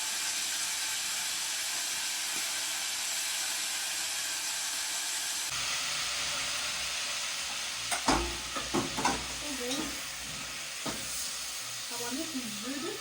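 Pieces of beef for goulash sear in a hot pan, with a steady broadband sizzle that grows louder once the meat goes in, and a few clinks and stirring knocks on top.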